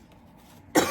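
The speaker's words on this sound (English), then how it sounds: "I don't know why I'm coughing" A woman gives a single short, sharp cough at close range after a near-silent moment.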